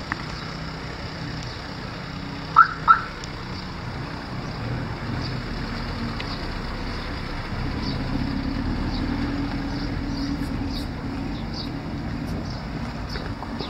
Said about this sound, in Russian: Opel Vectra, да? Вот он едет и пикает.